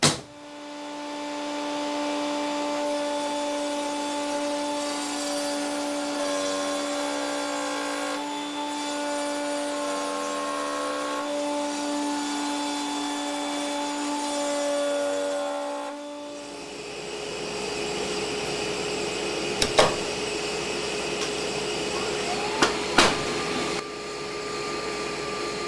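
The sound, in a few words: router table cutting mortise in wooden leg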